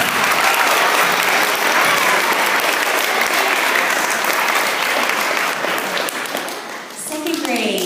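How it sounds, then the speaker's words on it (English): A school audience gives a loud, sustained round of applause for third graders' speeches at a states feast, thick continuous clapping close by with a few voices in the crowd. "Let's give them another round of applause."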